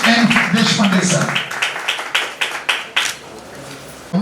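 Clapping from an audience at an award ceremony, brisk claps that start out thick and crowded, then thin into scattered separate hand claps, with a voice speaking over the first second.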